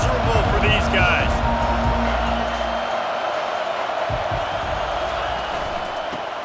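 Stadium crowd noise in the video game College Football 25, a steady loud roar that fades slightly over a few seconds, with a commentator talking over it.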